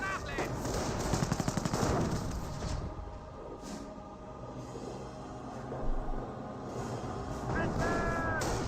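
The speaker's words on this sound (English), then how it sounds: "And now the Volksgrenadiers are receiving some fire there from the riflemen." Rapid bursts of rifle gunfire from riflemen firing on Volksgrenadiers in the World War II strategy game Company of Heroes, sharp repeated cracks with clustered volleys over a rumbling battlefield bed, moderately loud and continuous.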